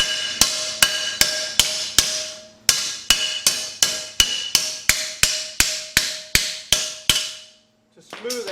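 Sharp, ringing hammer blows on a sheet metal plate, shaped against the rear-axle drum brake of a Jeep TJ Wrangler during rust repair: about seventeen evenly spaced strikes with a short pause partway through, loud and close, with no talking.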